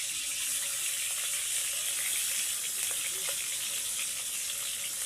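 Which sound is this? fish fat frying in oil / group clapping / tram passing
fish fat frying in oil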